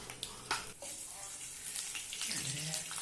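Chana dal, moong dal, mustard seeds and cumin sizzle in hot oil for mango rice, a continuous hissy crackle with a few sharper pops, while a person talks over it.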